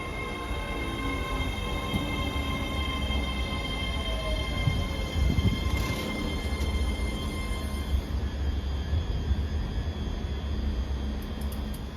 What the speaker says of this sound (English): Departing out now is the 1622 ScotRail service from Edinburgh Waverley to Cowdenbeath